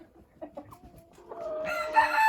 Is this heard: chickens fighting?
yes